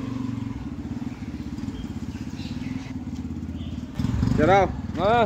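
Yamaha FZS V3 BS6 motorcycle (2022 model) riding along at night at about 40 km/h, its steady engine drone continuous throughout with rising revs near the end; a voice talks over it.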